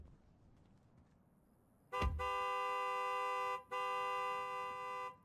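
Honking car horn in the video game Life Is Strange 2, two loud sustained blasts of about a second and a half each, separated by a short break, with nothing but faint background before them.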